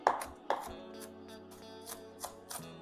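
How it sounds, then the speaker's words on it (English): A knife chops bell peppers on a cutting board with a quick series of crisp, close taps, several louder strokes at the start, then lighter, uneven chops, with no talking. "Let's chop those up."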